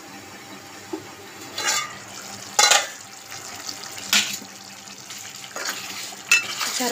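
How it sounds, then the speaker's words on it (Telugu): Water is poured into a simmering banana masala curry, giving a sizzling, bubbling wash with several louder splashing and stirring bursts at close range. "కొంచెం మసాలా ఉడకడానికి ఇంకొంచెం వాటర్ పోసుకోవాలి"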